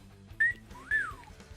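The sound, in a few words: voice imitating a catcall whistle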